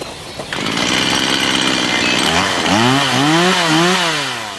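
A chainsaw runs loud and close throughout, a steady high whine whose engine note rises and falls in repeated revving sweeps during the second half.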